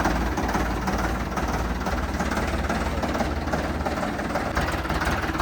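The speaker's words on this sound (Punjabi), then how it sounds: "ਆਪਣਾ ਫੋਰਡ ਟਰੈਕਟਰ ਚੱਲਿਆ ਜੀ" Ford 3600 tractor diesel engine running at a steady idle, a continuous low, rumbling chug that stays loud and close throughout with no talking.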